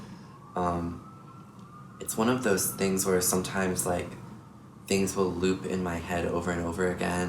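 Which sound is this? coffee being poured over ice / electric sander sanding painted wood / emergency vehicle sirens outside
emergency vehicle sirens outside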